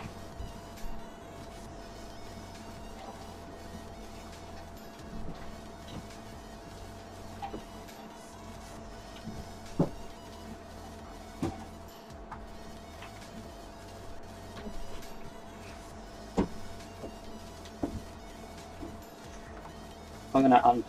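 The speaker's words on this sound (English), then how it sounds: "I'm going to unplug the printer." An indoor printer runs with a steady, faint mechanical whine and hum, with light clicks and small bumps scattered through it and a short louder clatter near the end.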